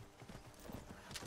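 Hooves of an elven armored horse clip-clop in a steady trotting rhythm in the video game Skyrim, close and moderately loud, ridden by a character in crusader armor.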